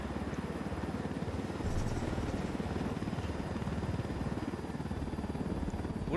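A helicopter in the video game Ghost Recon flies over Bolivia's Ocoro Province, its rotor chop a steady, loud, continuous thrumming that fills the scene with no other sounds over it.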